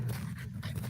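Two small French bulldogs pant in short rapid breaths close by, beside a campfire, for less than a second.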